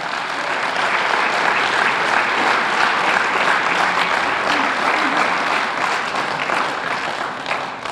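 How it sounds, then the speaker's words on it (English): Sustained, even applause from a large audience rolls on for several seconds as high school athletes and their coaches are introduced as Otto Graham award candidates, with a faint voice beneath the clapping. "please give them all a fine round of applause as we introduce them"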